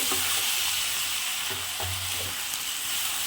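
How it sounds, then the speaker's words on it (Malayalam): Dragon chicken stirred in a hot pan after a pinch of salt goes in, with a steady broadband sizzle and a few soft scraping strokes from a spoon, close and continuous with no voices. "അല്പം ഉപ്പൂടെ ചേർത്ത് ഇളക്കി"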